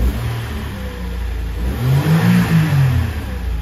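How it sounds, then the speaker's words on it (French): A Mercedes car engine revs as it accelerates, a steady mid-pitched drone that rises and swells toward the end, fairly close and with no talking. "Essayez de voir de la faire accélérer."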